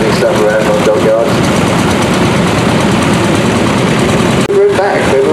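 A vintage Fordson tractor engine runs loud and close at a steam rally, a steady rumbling chug with rapid knocking pulses holding throughout, while voices talk underneath.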